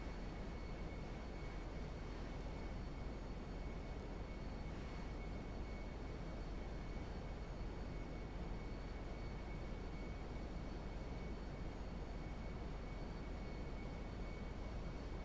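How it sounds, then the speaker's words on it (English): A plane taking off from a runway at Sandy Shores in a GTA roleplay game, heard as a steady, dense, unbroken engine roar at constant loudness throughout. "Spirit 127 taking off runway 8 north, north departure, Sandy Shores."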